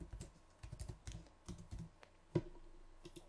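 Quick runs of soft keystrokes on a computer keyboard, close and quiet, with a brief pause and a single louder key tap near the end.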